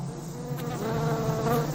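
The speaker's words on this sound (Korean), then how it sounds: "얼마 남지 않은 곡식도 메뚜기 떼가 나타나서 모두 먹어치웠어요." A swarm of locusts gives off a steady, dense insect buzz that hums continuously and swells slightly toward the end, with no voices.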